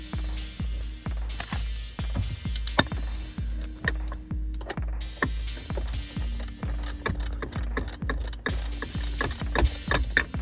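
A hand ratchet loosens a bolt with a rapid, even run of close mechanical clicks that continues steadily and without pause.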